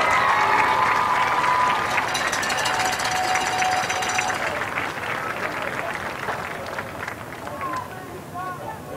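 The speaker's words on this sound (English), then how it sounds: "Please give them a big round of applause." A crowd at a 2012 high school football game, Prattville Lions at Northview Cougars, applauds the senior players and their families: dense, sustained clapping and cheering that fades slightly, mixed with a voice over a public-address system.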